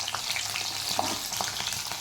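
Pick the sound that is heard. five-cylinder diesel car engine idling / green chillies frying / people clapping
green chillies frying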